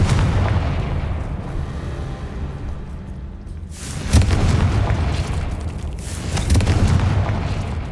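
Confringo blasting spell in a Harry Potter video game, heard as deep rumbling booms with two sharp explosive hits in quick succession near the end, loud against a constant low game soundscape.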